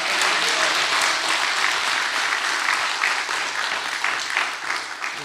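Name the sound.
audience applause in church lecture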